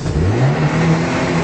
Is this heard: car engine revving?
yes